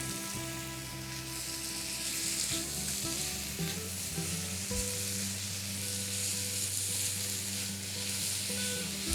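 Four cups of broccoli being stirred in a hot pan give a steady, close sizzle and crackle of frying, with scraping stir noises throughout and no talking.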